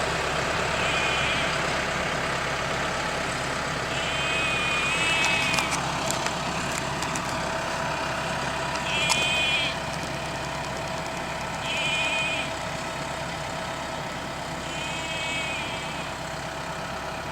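Truck carrying sheep to pasture in Norway, reversing to turn around at a junction: a steady low engine drone and vibration throughout, with faint high chirps recurring every few seconds.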